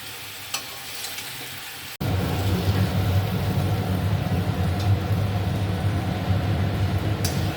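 Chicken frying in a pan for chicken changezi, stirred as it cooks. It starts quiet, then a loud, close, continuous sizzle with scraping from the stirring runs steadily to the end, with no voices.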